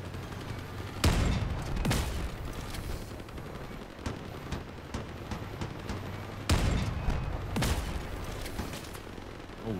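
Dual pulsar energy weapons firing in the vehicle combat game Crossout, heavy booming bursts near 1, 2 and 6.5 seconds over continuous rumbling battle noise and scattered blasts.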